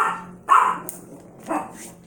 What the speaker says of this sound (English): now she is barking at a motorcycle